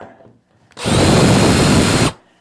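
A power drill drilling holes for racks whirs at high speed for just over a second, loud and close, starting and stopping abruptly in a quiet room.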